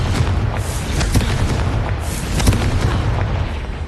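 Confringo explosion spell in Hogwarts Legacy, loud booming blasts with rumbling low end, several impacts rolling together over a few seconds.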